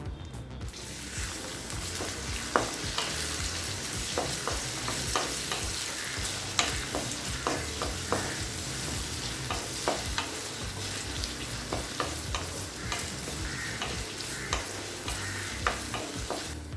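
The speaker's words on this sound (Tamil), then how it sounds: "இப்போ வெங்காயம் நல்லா வதங்கிடுச்சுங்க." Sliced big onions sizzling and frying in a kadai with cinnamon, cloves, cardamom and bay leaf, a steady close crackle throughout with frequent scrapes and clacks of a ladle stirring, no voices.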